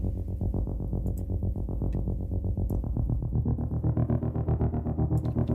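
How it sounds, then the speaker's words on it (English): A distorted synthesizer bass patch with effects, made for a metalcore song, plays a loud repeating pulsing pattern of low notes in steady rhythm, growing brighter and thicker near the end, with no voices over it. "I recreated the bass sound just so I could use it in this song"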